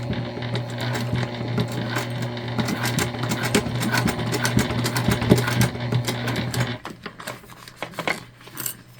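Sewing machine stitching through clear jelly vinyl, a fast steady mechanical whir and rapid needle clatter close by that slows and stops near the end.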